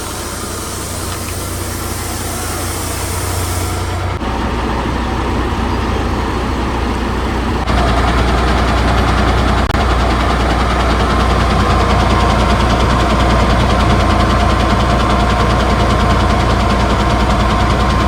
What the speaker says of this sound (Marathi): गाडी आता निघते ना मित्रांनो